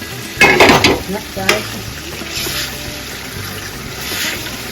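Pav bhaji vegetables being stirred into a sizzling gravy in a pan, a burst of loud wet scraping and slapping for about a second, then a softer simmering sizzle with faint scrapes, close up, no voices.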